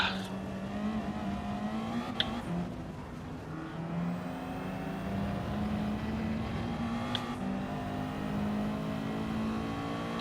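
Genesis G70 engine in Gran Turismo 7 pulling hard and steadily under acceleration, a sustained loud drone with rising harmonic whine and a couple of faint clicks over ten seconds, no voices.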